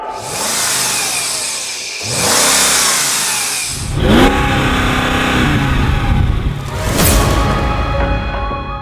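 Twenty-year-old BMW M5 and Mercedes-AMG sedans, including a supercharged 5.5-litre 2003 E55 AMG, launch and accelerate hard in a half-mile drag race, loud engine roars rising through repeated gear changes with no talk.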